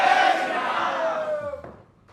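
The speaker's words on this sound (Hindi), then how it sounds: "एक बार फिर जोरदार तालियां धीरेन्द्र कृष्ण शास्त्री जी के लिए" Audience applause and cheering for Dhirendra Krishna Shastri, head of Bageshwar Dham, on an interview stage. A loud, dense crowd roar fades over about two seconds into near quiet.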